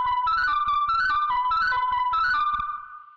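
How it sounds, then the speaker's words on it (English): A bright, crazy-sounding synth arpeggio plays repeating rising note patterns in steady rhythmic bursts, loud and alone, then fades out at the end. "The synth that I started with is this."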